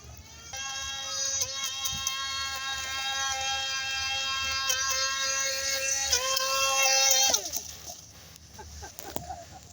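The motor of a model amphibious speedboat runs on the water with a buzzing tonal whine that holds steady, shifts pitch once and then cuts off, with some background noise.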